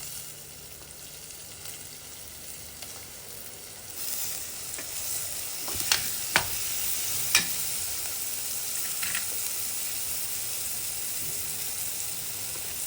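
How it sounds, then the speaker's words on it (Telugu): Onions frying in oil with browned garlic and turmeric, a continuous hissing sizzle that grows louder after the onions go in, with a few sharp stirring clacks from a spatula nearby. "వెల్లుల్లిపాయలు కొంచెం ఎర్రగా వేగిన తర్వాత మనం తరిగి ఉంచుకున్న ఉల్లిపాయ ముక్కలు వేసి వేయించాలి"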